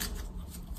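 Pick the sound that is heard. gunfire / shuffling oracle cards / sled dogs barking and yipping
shuffling oracle cards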